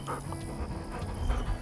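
A retriever panting during a bumper fetch drill: quick, breathy huffs repeating steadily, close by, over a continuous low background hum with no talking.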